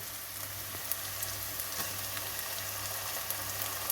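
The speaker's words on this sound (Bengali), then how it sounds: "এবার আমি আদা রসুনের পেস্ট দিয়ে দেবো" Ginger garlic paste sizzles in hot oil with browned onions for a Bengali-style chicken keema and pea curry, a steady close crackling fry with occasional small pops.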